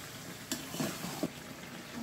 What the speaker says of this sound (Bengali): আমি আরও বেশ কিছুক্ষণ সময় নিয়ে এই মাংসটা কষিয়ে নেব